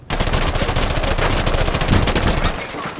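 In an esports match of a tactical shooter, rapid automatic gunfire shoots open a wall, a loud continuous burst lasting about two and a half seconds before it cuts off.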